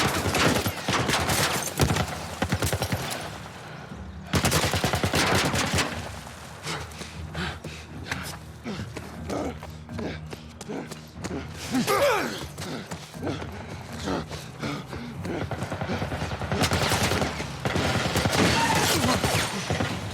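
Military turret gunfire in The Last of Us remake plays as a sustained barrage of loud, rapid bursts, with heavy volleys repeating across the clip and brief lulls between them.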